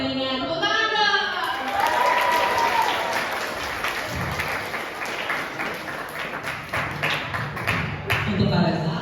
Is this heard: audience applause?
yes